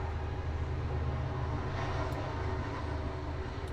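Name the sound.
train going by outside open window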